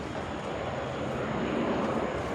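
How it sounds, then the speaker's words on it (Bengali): An airplane at an airport preparing for takeoff, a continuous broad engine roar that holds steady and swells slightly, moderately loud at some distance. "এটি নামার সাথে সাথেই আরেকটি বিমান উড্ডয়নের জন্য প্রস্তুত হচ্ছে।"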